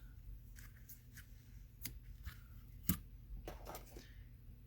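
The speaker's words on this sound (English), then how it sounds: "Scissors." Quiet, sporadic snips of scissors cutting patterned paper at a craft table, a few short crisp cuts spaced irregularly with one sharper closing snap, no talking.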